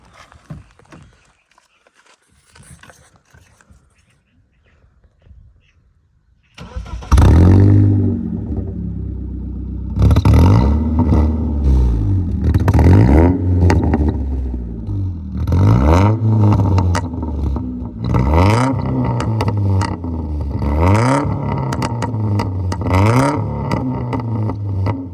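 A BMW E46 with its silencer removed starts up after a few seconds of quiet, then settles into a loud, raw idle broken by repeated sharp revs rising and falling close by.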